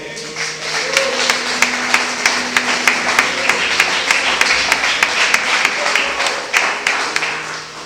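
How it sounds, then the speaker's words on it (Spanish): Church congregation at a Spanish-language service claps in steady, evenly spaced rhythmic beats, a roomful of hands striking together at a brisk tempo over a sustained tonal hum, with voices faintly underneath. "Den un aplauso al Señor"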